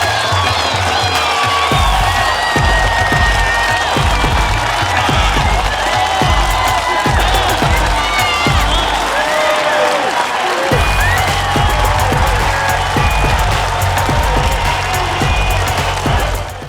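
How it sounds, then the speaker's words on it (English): Loud applause with cheers and whoops fills a forum hall for community health workers, continuous and dense throughout, with scattered shouts rising above the clapping. "A round of applause for you."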